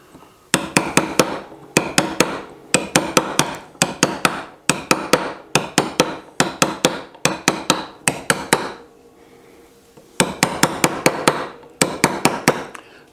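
A hammer drives a chisel into stone to cut deep letters, with bursts of rapid, sharp, ringing close-up strikes in steady rhythm, broken by short pauses and one longer gap before the chopping resumes.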